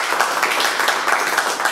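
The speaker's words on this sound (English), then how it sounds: "A little round of applause there." Brief, light round of applause from a small audience at a quiz, a steady patter of clapping hands at moderate volume for under two seconds.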